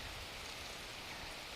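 Steady rain falling during pond fishing ahead of a thunderstorm, a dense even hiss of drops hitting surfaces that fills the whole moment without pause or voices.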